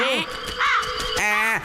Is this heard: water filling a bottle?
no